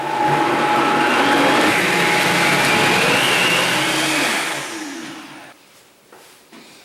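Blender running at full speed on an acai bowl with turmeric, a loud steady whirring roar for about five seconds that then winds down and stops.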